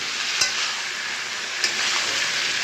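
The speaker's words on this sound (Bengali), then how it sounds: "কুমড়ো বরবটিটা এটাও একটু নাড়তে হবে," Pumpkin and yardlong beans sizzle steadily while being stir-fried in a pan, a continuous frying hiss broken by two brief scraping stirs, with no voices.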